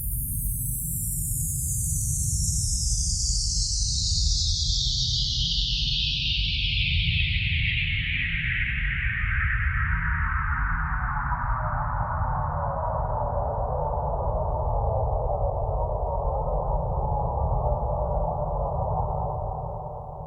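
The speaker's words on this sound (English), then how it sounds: "That's the sound of falling." A synthesized horror 'FX Fall' falling effect from an FL Studio preset: a loud, continuous descending sweep glides steadily downward over about twenty seconds above a constant low rumble, ending in a sustained low tone.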